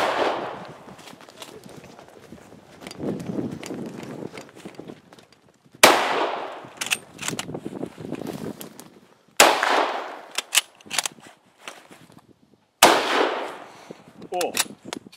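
A Mosin Nagant 7.62x54R rifle fires three loud, sharp shots at a 2013 run-and-gun shooting event, each spaced a few seconds apart with a ringing decay, after a stretch of muffled commotion and voices.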